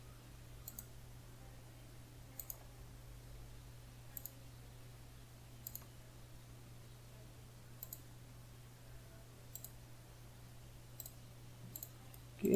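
Mouse clicks while working in CATIA V5 software on a computer, sparse single sharp clicks spaced every second or two over a low steady electrical hum, close and quiet, with no talk.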